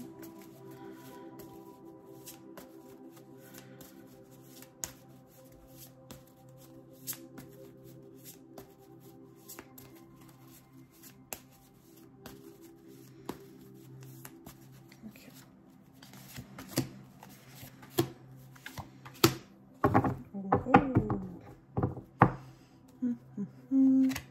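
Oracle cards being shuffled and drawn, soft rustling and papery slaps that grow busier and louder toward the end, close and quiet, no talking.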